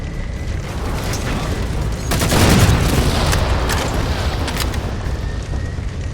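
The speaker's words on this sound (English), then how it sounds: "Target those phantoms for the railgun to shoot down" A railgun fires on Phantom dropships in Halo 4, a dense burst of booming blasts and rumbling mechanical noise that swells in the middle and stays loud to the end.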